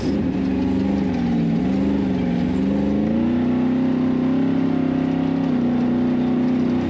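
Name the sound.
4600-class off-road race car engine revving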